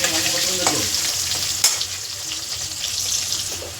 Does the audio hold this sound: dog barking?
no